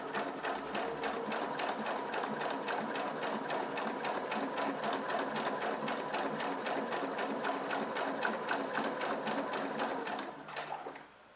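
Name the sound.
sewing machine stitching fabric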